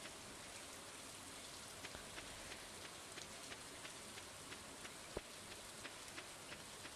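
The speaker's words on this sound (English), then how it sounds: "We got an immediate rain day." Steady rain in the farming video game Stardew Valley, a soft, even patter of drops with faint scattered ticks, constant and low in level with no voices.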